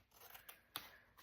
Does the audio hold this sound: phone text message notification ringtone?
no